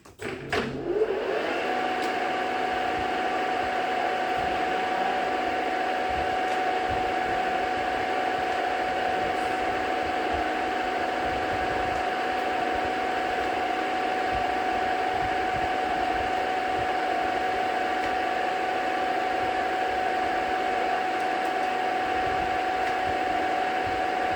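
A JFMT 530 x 2000 lathe starts up and spins up to speed, then holds a steady, fairly loud motor whine and hum alone for over twenty seconds.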